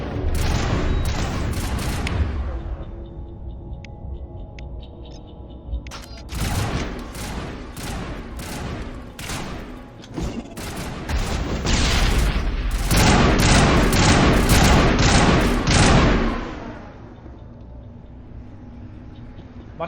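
Burst-rifle fire in Mass Effect Legendary Edition hammers out in dense repeated volleys with booming impacts, loud and close, easing off near the end.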